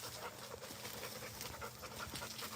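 A Rottweiler or pit bull pants steadily close by outdoors in the morning, quick soft breaths repeating in a continuous rhythm.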